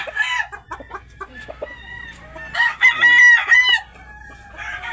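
Tethered gamefowl roosters crow repeatedly and loudly, several overlapping cock-a-doodle-doo calls with clucking between them, close by in a farmyard setting.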